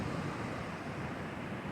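Steady ocean waves and wind at a beach form a dense, continuous wash of noise with gusty low rumble, moderately loud and unbroken, with no voices.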